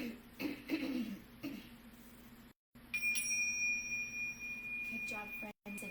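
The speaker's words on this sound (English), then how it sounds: "ring our bells to start us off" Small bells ring to open a children's story-time yoga session. Bright sustained tones ring out and fade after a short break, with people speaking over the ringing.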